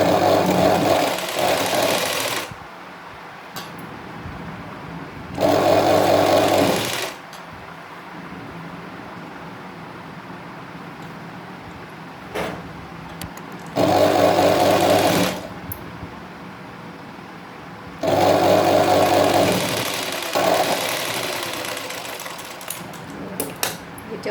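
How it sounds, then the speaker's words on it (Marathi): A sewing machine stitches a katori-joint blouse seam in four short bursts of steady running, separated by quiet pauses. "डबल शिलाई मारायची पुन्हा आपल्याला"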